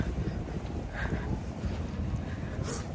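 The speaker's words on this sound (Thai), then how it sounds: "ลมแรงด้วยทุกคน" Strong wind buffeting the microphone outdoors on a cold day, a continuous broadband roar with gusty swells throughout, loud and without any voices.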